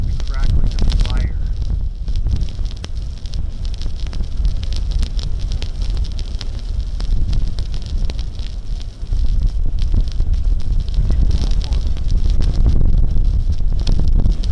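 Strong wind roars steadily near a mountain, buffeting the microphone with a dense, continuous rumble and hiss that holds for the whole stretch with little letup.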